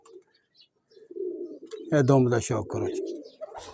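Racing pigeons for sale coo low and close, a soft throaty murmur running under and between a man's speech.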